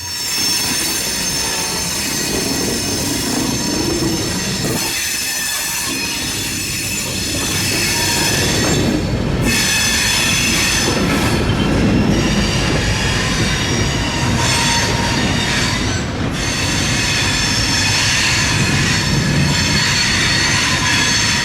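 Reading and Northern train led by an SD40-2 diesel locomotive rolling past in a rural setting, a loud, sustained rumble of wagons with shrill, drawn-out wheel squeals rising over it, heard close and steady with no talking.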